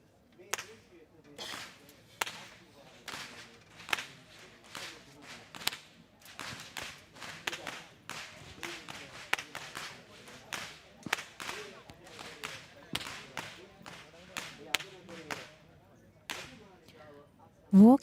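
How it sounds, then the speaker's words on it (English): Whip crackers snap their whips at the head of the Kandy Esala Perahera procession in Sri Lanka, a long series of sharp, loud cracks in irregular rhythm over a crowd murmur. "Walking up front with the sound of thundering whips piercing through the skies are the whip crackers announcing that the procession has commenced."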